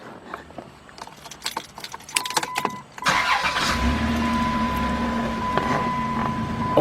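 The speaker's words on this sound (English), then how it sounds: "We're going to start the vehicle." Keys jingle and click near the ignition of a 2005 Chrysler Town & Country minivan, then the engine cranks and catches at about three seconds and settles into a steady close idle with a faint whine.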